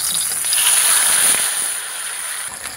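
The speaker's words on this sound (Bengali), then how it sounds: "মাছগুলো খুব ভালোভাবে ভাজা হয়ে গেছে" Fish fry in a small amount of hot oil, a bright, steady sizzling hiss that holds close and loud throughout, easing slightly toward the end, with no talking.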